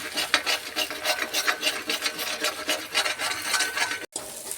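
Spinach thoran with egg being stirred and scrambled in a pan, a steady scraping, rasping churn with rhythmic strokes close by, ending in a brief cut of silence.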